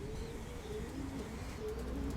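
White-tailed steel-colored pigeons coo nearby, soft low repeated calls alone over a faint background hum.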